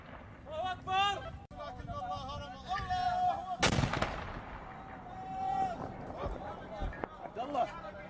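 Excited shouting voices during fighting in rural Daraa, Syria, with one heavy, booming mortar blast midway, loud and broadband, followed by more voices and a fainter thud.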